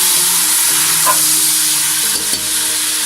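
Ginger garlic paste frying with golden brown onions in a pan for chicken biryani: a loud, steady, close sizzle with occasional stirring scrapes, no talking.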